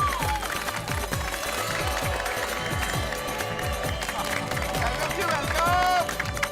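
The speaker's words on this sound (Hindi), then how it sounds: "तालियां तालियां।" Crowd applause at a housing society welcome gathering, steady rhythmic clapping from many hands sustained throughout, mixed with background music and voices.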